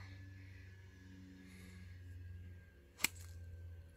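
A forged Geotech prototype 6-iron strikes a golf ball once with a single sharp crack outdoors, short and crisp, over a low background hum.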